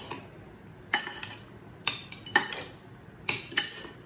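Swordfish tartare being mixed with salt and black pepper in a bowl: a handful of sharp utensil clinks and scrapes against the dish, spaced irregularly, close and fairly loud over a quiet background.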